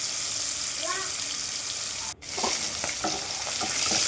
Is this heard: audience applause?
no